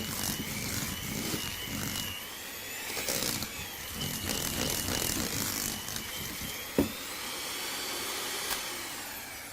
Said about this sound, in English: whisk the sugar and the butter together